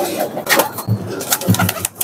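Teddy pigeons, a weightless show breed, coo in low soft repeated calls with a few brighter chirps and a faint rustle, fairly close, with no talking.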